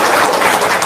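Audience applause rising in response to a call to clap at a casual Indonesian gathering, a dense, steady wash of many hands filling the whole short stretch at close range.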